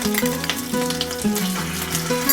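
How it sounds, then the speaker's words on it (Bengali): Ginger paste sizzles and crackles in hot oil while aloo dum is being cooked, a steady close frying hiss with small stirring clatters and no talking. "এবার আমি আদা বাটাটা দিয়ে দেব।"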